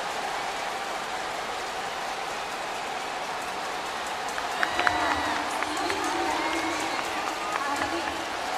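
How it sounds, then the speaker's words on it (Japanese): A stadium crowd at a Tokyo Dome baseball game between Giants and DeNA gives a sustained roar of cheering as a pinch hitter is announced, with broad continuous crowd noise and a stadium announcement partway through. "大歓声です。"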